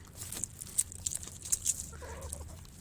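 Chickens and a large rooster clucking while they eat in a farmyard, scattered short clucks and sharp calls at irregular intervals over a low background, fairly close.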